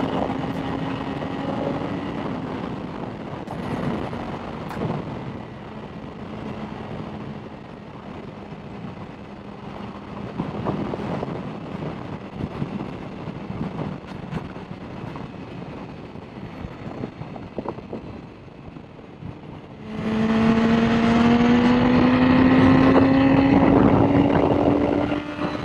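A BMW S1000RR HP4 sport motorcycle being ridden in wet weather, its engine holding a steady droning note under wind and road noise, then surging louder with a rising pitch near the end.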